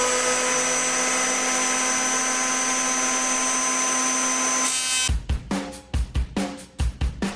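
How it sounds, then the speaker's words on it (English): Thicknesser planing a black walnut board, a loud continuous high machine whine for about five seconds that gives way to a series of short rhythmic bursts as the cutting continues. "I need to plane it with a thicknesser, taking off a little at a time."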